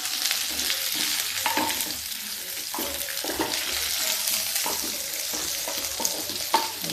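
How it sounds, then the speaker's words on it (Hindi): Okra and potatoes fry in a hot pan, giving a continuous close sizzle with intermittent scraping and stirring strokes. "भिंडी को भी फ्राई करेंगे, और इसके साथ ही हम डालते हैं थोड़े से आलू"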